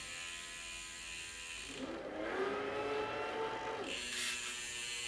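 A Pinion MGU electric bike drive shifts gears on its own while the bike rolls, giving a rising mechanical whir and ratcheting hum that swells in the middle and then settles, close and moderately loud, with no voices.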